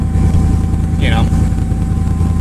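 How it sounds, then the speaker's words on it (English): A 1989 Mercury Grand Marquis engine idles loudly and steadily right after a cold start, with an even low rumble throughout and one brief high chirp partway through. "it was a true cold start, but as you see, she idles high and then drops right out of high idle"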